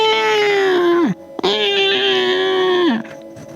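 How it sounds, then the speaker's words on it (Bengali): An eerie cat meow used as a horror-story sound effect: two long, drawn-out wailing cries, each sliding downward at its end, loud and close with a brief gap between them. "ওর সাথে বুক কাঁপানো বিড়ালের ডাক।"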